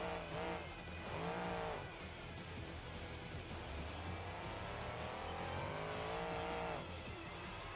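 A car launching hard at the start of a drag race in BeamNG.Drive, the engine revving and climbing through gears with tire squeal, loud and close, the roar rising, dropping and surging again across the run.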